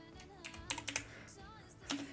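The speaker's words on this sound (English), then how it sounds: "but we're typing this out" Computer keyboard typing while writing code, a few scattered close key clicks over a steady background hum, with a brief flurry near the end.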